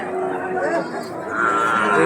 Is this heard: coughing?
no